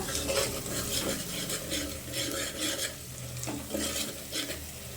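Chilli powder and spices frying in a pan for boti curry, moderate sizzling overlaid by rhythmic scraping strokes of a spoon against the pan.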